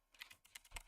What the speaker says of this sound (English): I'm typing them out now